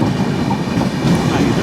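Rajdhani Express train running steadily on rails, a continuous close rumble with faint rhythmic clatter throughout, no voices.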